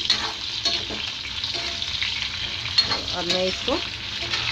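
Potatoes fry in a pan for khichari, giving a continuous crackling sizzle with scraping stirs and utensil clinks, while someone speaks briefly over it.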